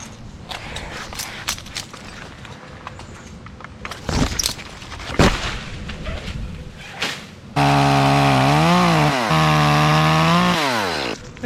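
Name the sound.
saw cutting tree limbs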